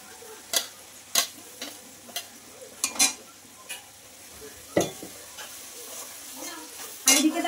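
Onions and spices frying in a pan during home cooking, with a steady sizzle and a run of sharp spatula scrapes and clacks against the pan at irregular intervals, close and fairly clear, with no talking.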